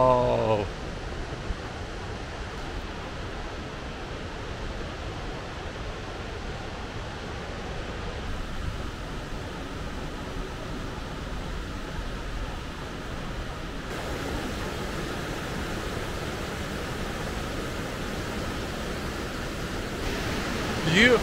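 Switzerland's second highest waterfall, in the Alps, sends out a continuous broadband roar of falling water, steady and fairly close, with faint wind buffeting at moments.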